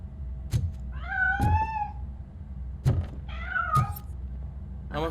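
A cat in the video game RoboCop: Rogue City lets out two drawn-out, wavering meows, close and clear, with dull thuds and footsteps between them and low ambient hum underneath.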